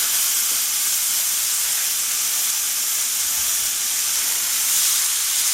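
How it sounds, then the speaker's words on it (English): Beef burger patties sizzling in a very hot pan: a loud, continuous hissing sizzle with steady crackle, close and even throughout, with no voices. "So I'm going to go ahead and get our burgers on."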